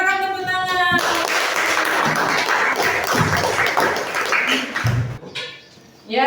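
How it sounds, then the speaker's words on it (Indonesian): A classroom audience claps in a sustained burst of applause after a group presentation, dense and close for about five seconds before it fades out, with voices heard at the start and end. "Silakan tepuk tangan."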